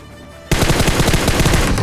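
Automatic weapon fire in a battle royale video game erupts suddenly after a brief lull, a loud fast string of closely spaced shots continuing to the end.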